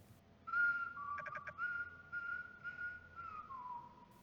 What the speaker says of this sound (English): Whistling sound.